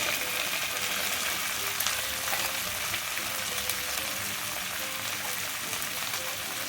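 Ingredients for a hot, sweet and sour pickle fry in a pan over a lowered gas flame, giving a steady, even sizzle and crackle that runs unbroken throughout, close by and moderately loud, with no talking.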